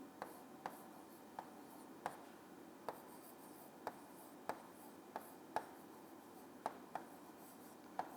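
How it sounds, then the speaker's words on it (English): Chalk or marker tapping and scraping on a classroom board during a math lesson on time, speed and distance, with a steady series of short, crisp strokes and taps at close range, and no talking. "I am just writing here once again."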